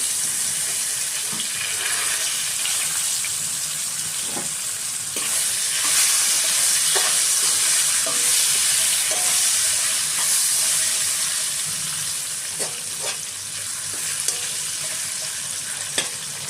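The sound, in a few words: potato pieces frying and stirred in pan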